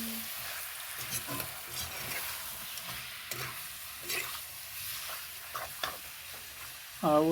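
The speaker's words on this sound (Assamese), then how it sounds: "লাহেকৈ লৰাই দিছোঁ এতিয়া মাংসটো" Pork meat with turmeric is stirred in a frying pan, giving a quiet, steady sizzle broken by soft scraping strokes of the spoon, with no talking.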